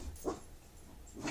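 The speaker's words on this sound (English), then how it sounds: "The dogs are barking." Two short barks from dogs indoors, separated by about a second, moderately distant and slightly muffled.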